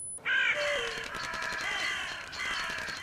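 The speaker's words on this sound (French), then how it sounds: "il pousse alors un coassement lugubre qui résonne dans la nuit" A single crow caws with a long, harsh, drawn-out call, fairly close and clear, fading slightly at the end.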